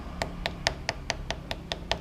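A rusted radiator part is tapped eight times in a steady rhythm, each knock short, dull and fairly faint, close by and alone.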